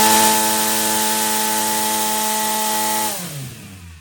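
An RC motor spins a 9-inch fixed-pitch 3D-printed propeller at high RPM, giving a loud, steady whine with strong harmonics for about three seconds before it cuts off and winds down.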